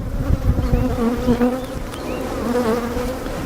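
Honey bees buzz loudly and continuously around an opened hive during an inspection, their droning hum wavering in pitch up close.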